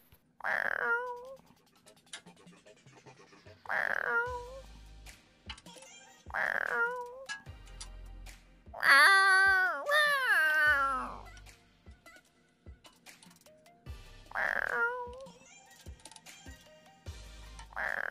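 Repeated cat meows come at regular intervals, one longer drawn-out caterwaul in the middle, with faint clicks between.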